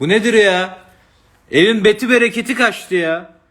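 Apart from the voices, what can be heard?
No distinct noise like a dog, phone or traffic.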